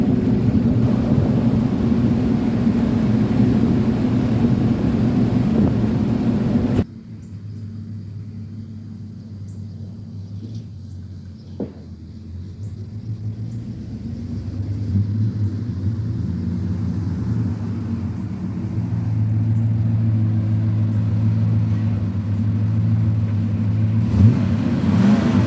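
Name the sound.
truck driving, engine rumble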